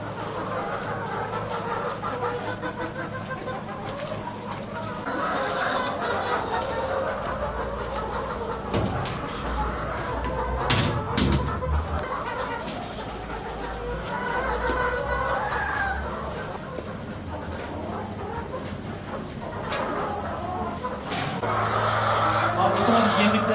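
Chickens in a school-yard coop cluck repeatedly at close range, with occasional louder squawks and a rooster crow, while people talk nearby.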